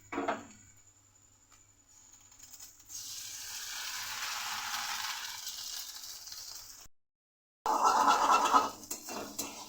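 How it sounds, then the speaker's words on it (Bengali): Egg cracked into a pan of frying onion and garlic sizzles in a steady hiss that swells and holds for several seconds, breaks off briefly, then returns loud and crackling. "আর এই পেঁয়াজ আর রসুনের মধ্যে দিয়ে দেব একটা ডিম ভেঙে"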